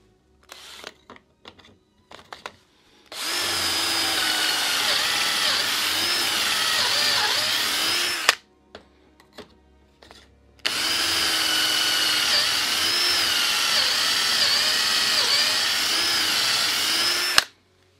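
A power drill bores into wood clamped in a Wolfcraft hidden-joint jig, two long steady loud whining runs of several seconds each, separated by brief handling clicks and knocks.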